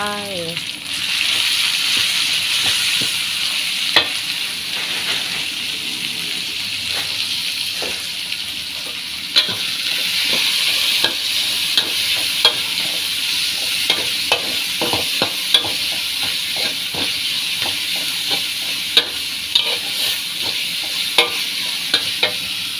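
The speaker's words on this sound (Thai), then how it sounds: "ใส่หมูสับลงไป" Minced pork sizzling loudly in a hot pan while being stir-fried for a Thai basil instant-noodle dish, a steady hissing frizzle with scattered scraping clicks of the spatula throughout.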